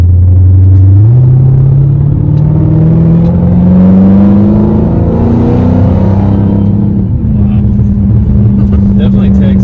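Dodge Redeye with a new carbon fiber driveshaft accelerating hard from a driveway, a loud deep engine roar climbing steadily in pitch through a gear change, with a voice talking over it.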